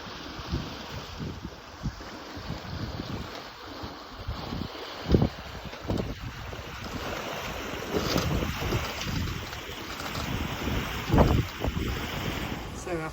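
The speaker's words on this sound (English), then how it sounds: "we have set sail, continuing west to the Maldives" A sailboat under sail heads west across the Indian Ocean from Thailand toward the Maldives, with constant wind buffeting the microphone and waves washing along the hull, broken by a few louder gusts and splashes.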